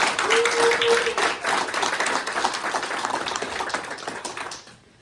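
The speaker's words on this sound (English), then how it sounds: "can I get a round of applause for all the people who made this beautiful night happen behind the scenes?" Wedding reception guests clapping at an evening celebration, a loud burst of many hands that slowly thins and fades out toward the end, with a brief whistle-like tone near the start.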